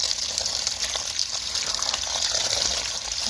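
Sorrel leaves, a full pound, washed under running water, giving a steady gushing splash of tap water alone, close and fairly loud throughout.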